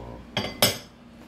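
A metal utensil scraping a skillet while lifting a baked potato into a bowl, heard as two quick close clinks and scrapes within about a second.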